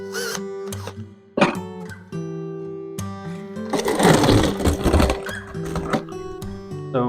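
A power driver whirs in short, loud bursts while driving screws into a wooden medium box from a beehive kit, with a harsher, grinding stretch as a screw seats, close and without talk.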